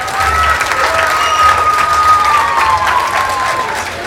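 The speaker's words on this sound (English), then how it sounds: "Give these two a big round of applause." A crowd at a Robeson County Fair show in Lumberton, North Carolina, claps loudly and steadily throughout, with a few whistles or cheers riding over the dense applause.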